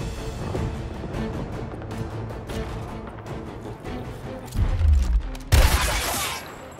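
Gunfire from the tactical video game Gears Tactics, with dense crackling shots over a busy rumble and a heavy burst and impact near the end.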